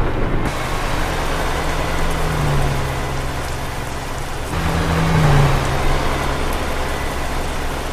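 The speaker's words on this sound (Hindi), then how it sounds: "बारिश भी आ रही है" Rain falls steadily in Euro Truck Simulator 2 while driving a Mack Anthem 70 sleeper with 505 hp, a constant loud hiss over a low engine drone that shifts pitch as the truck changes gear.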